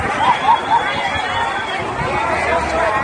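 Crowd of protesters gathered at a Dublin roundabout, a steady murmur of many voices with scattered chatter and brief raised calls, fairly close and continuous throughout.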